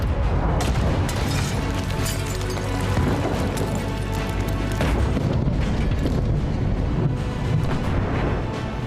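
Israeli air strikes pound southern Lebanon, a loud, dense barrage of deep booms and rumbling blasts that keeps rolling without a break.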